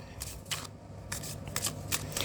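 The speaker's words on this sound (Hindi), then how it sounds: "last shuffle" Tarot cards being shuffled by hand, a quick run of crisp riffling flicks and soft slaps, close and fairly quiet, with no speech.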